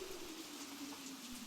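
Steady rain falls around two friends sharing a small umbrella, a soft continuous hiss with faint pattering and no talking, alongside a low steady hum.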